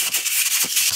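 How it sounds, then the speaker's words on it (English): Sandpaper rubs over the bottom of a scarf-spliced wood baseboard trim joint, a steady close scratchy hiss with a few quick back-and-forth strokes and no talking. "More sanding at the bottom."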